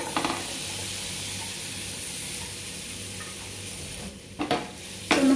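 Chopped banana fries in hot ghee in a pan, a loud continuous sizzle close by, with a couple of brief stirring knocks near the end and no speech.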